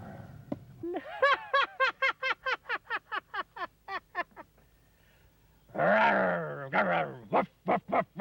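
A dog in a 1968 children's television show barks in a rapid run of about a dozen sharp, evenly spaced yaps, then breaks into a rougher, growling burst followed by a few more barks, loud and close.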